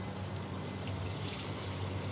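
Water pours steadily into a beef karahi pan of simmering oil and tomatoes, a brief continuous close splashing stream with no talk.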